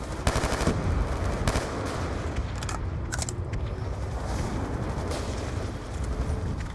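Sniper shots and rapid gunfire in the video game Call of Duty: Black Ops 2 ring out in sharp bursts, a few loud cracks standing out over a dense, rumbling battle backdrop.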